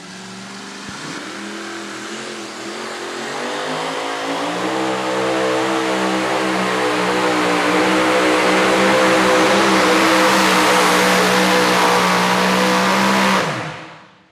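Engine of a super modified two-wheel-drive Chevrolet pulling truck at a truck pull in Goshen, Indiana, roaring loud and close with a steady rising rev that builds over the first few seconds, holds at full power, then cuts off abruptly.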